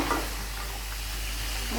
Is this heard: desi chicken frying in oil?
yes